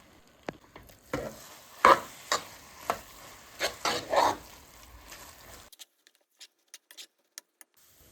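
A sweet coconut mixture with fresh cream cooks over a low flame, heard as soft bubbling and a faint sizzle. Irregular stirring knocks and scrapes are spread through it, then sparse, quiet clicks as the activity dies away. No voices.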